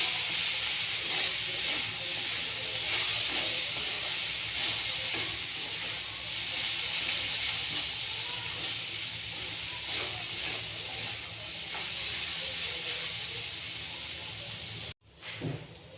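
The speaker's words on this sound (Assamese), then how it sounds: "পিঁয়াজটো অকণমান গলি যোৱাকৈ গোটেইখিনি একেলগে ভাজি ল'ম।" Sliced onions and minced chicken sizzle and hiss steadily in a hot frying pan, a continuous close crackle with occasional stirring scrapes, briefly cut off near the end.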